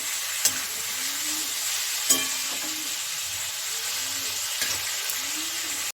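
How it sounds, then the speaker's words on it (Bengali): Chicken and onions fry in a pan for chicken bhuna masala with a steady loud sizzle, broken by a few sharp scrapes and stirs against the pan. "মাংসের সঙ্গে পেঁয়াজটা আরও ভাজা হবে"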